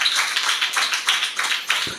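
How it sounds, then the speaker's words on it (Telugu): An audience claps together hard and steadily at a youth meeting, a dense run of sharp hand claps filling the space close by with no voices over it. "చప్పట్లు కొట్టండి గట్టిగా."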